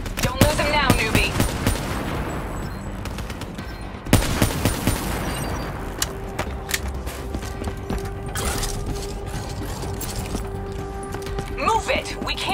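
Gunfire in the Call of Duty Black Ops 3 campaign mission New World: bursts of rifle and automatic fire crackle through the scene, a sharp loud shot near the middle, mixed with game effects and voices.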